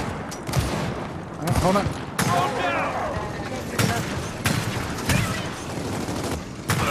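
Gunfire in Gears of War 4 co-op play: dense bursts of automatic fire and sharp shots crackle through the whole stretch, with loud impacts and mechanical clatter, while players talk over it.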